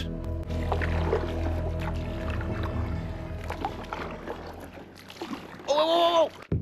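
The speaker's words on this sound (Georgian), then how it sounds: "ჩვენ ჩუმად და მშვიდად გავცურავთ კაიაკით." A kayak glides quietly through the water with soft, intermittent paddle strokes and light splashes over a low, steady drone, followed by a brief rising, tonal call near the end.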